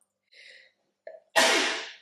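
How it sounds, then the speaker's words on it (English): A single loud sneeze, preceded by a couple of short breathy inhales, close to the microphone. "I'm gonna sneeze."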